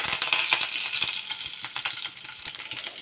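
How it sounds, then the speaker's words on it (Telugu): Curry leaves frying in a pan at home, a steady close crackle and sizzle with small scattered pops, moderately loud and with no talk. "ఇప్పుడు కరివేపాకు కూడా వేగింది కదండి."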